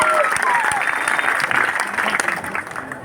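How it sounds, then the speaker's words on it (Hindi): Steady applause from an audience, dense clapping continuing throughout, with a voice faintly mixed in. "सुनील सिंह, जोरदार ताली बजा करके सुनील सिंह का स्वागत करिए।"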